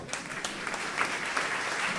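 A church congregation claps for the Lord in a brief, steady burst of applause that fills the room.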